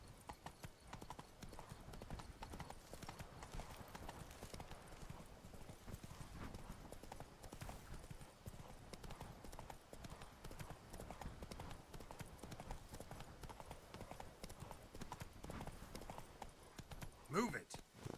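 A horse galloping in the video game Witcher 3 produces continuous rhythmic clip-clop hoofbeats, with a rider's voice urging it on and a short whinny near the end.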